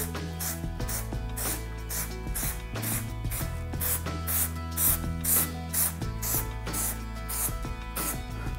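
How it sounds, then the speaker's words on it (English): Repeated short hissing bursts from a spray can of adhesive onto a boat cover patch, in a steady rhythm, close by, over a constant low mechanical hum. "We're gonna spray this with adhesive along with the other patch"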